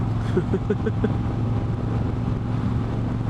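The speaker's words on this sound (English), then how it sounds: "we're at 45 miles an hour, you can hear the engine's just not taxed at all" Steady low motorcycle engine drone at 45 mph with constant wind rush, a smooth unstrained hum that holds even throughout, close and fairly loud.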